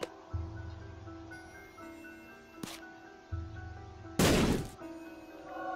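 Bombs exploding in the video game The Binding of Isaac: Afterbirth+, two sharp bursts against a background of game music and low thumps, the second blast louder and longer.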